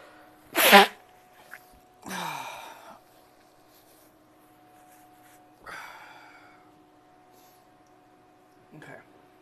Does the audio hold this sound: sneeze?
yes